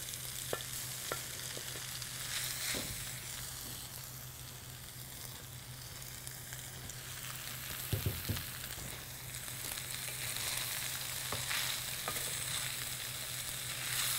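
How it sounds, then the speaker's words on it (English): Vegetables and noodles fry and get stirred in a hot pan, a soft steady sizzle with scraping and clinks of tongs, faint and close, with no talk. "I'm gonna take the rest of my, my vegetables and I'm gonna toss that in together"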